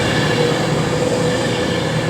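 A train rumbles at a platform of Milton Keynes Central station on the West Coast Main Line, a loud steady rolling roar with faint wheel squeal throughout.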